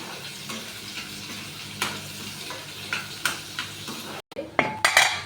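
Sliced onions sizzling and frying in a pan with chana dal, urad dal and cumin, with steady spatula stirring and several sharp scrapes and clinks of the pan, close and fairly loud.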